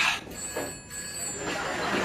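An old telephone bell rings in an office, a bright, close ring starting the clip and sounding again near the end, with no talk.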